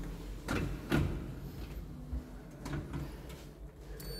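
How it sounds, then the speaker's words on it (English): Elevator doors open in a multi-storey car park lift at St James in Nottingham with a few soft clunks and short mechanical slides against a quiet background hum. "Doors opening."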